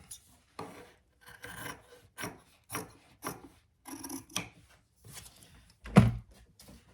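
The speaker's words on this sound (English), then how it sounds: "now I'm going to cut off my excess over here on the top" Excess material is cut off the top of a craft caddy in a series of short scraping, rasping strokes with brief pauses between them and a single heavier thunk near the end, close and fairly quiet, with no talking.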